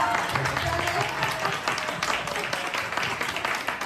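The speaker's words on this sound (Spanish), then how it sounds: "el aplauso que ustedes han dado es un aplauso miserable" Scattered applause from an audience at a literary criticism round-table, steady and moderate throughout, with voices murmuring underneath.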